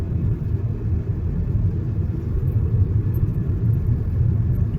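Car moving through slow weekend road traffic on a narrow-lane highway on the way out from the NCR, a steady low rumble of engine and road noise continuing without a break and with no voices.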